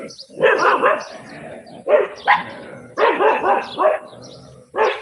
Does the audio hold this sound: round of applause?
no